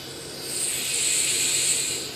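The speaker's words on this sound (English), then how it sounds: "that's the sound of precision ball bearings." A soft, steady high-pitched whir of a free-spinning, non-returning yo-yo's precision ball bearings swells and fades over a couple of seconds.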